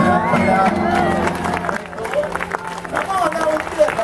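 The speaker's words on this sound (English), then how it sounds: "They're going to clap and go nuts." An audience at a magic show claps and cheers in a dense burst of applause and crowd noise, with a voice talking over it.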